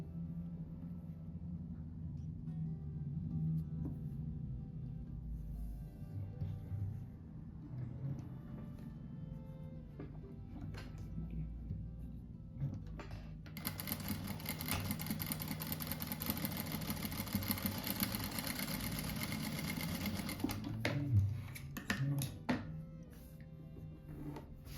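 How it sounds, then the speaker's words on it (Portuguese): A sewing machine stitches the middle seam of a car-shaped cushion made for a boy's room. A steady low motor hum runs throughout, swelling into a louder, brighter whirring run midway, with no talk. "agora eu vou costurar aqui o meio"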